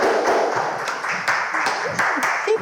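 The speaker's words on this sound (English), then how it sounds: "Keep clapping, keep clapping" Audience applause rolls on steadily at a talent show, dense and fairly loud, with sharper individual claps popping out and faint voices murmuring underneath.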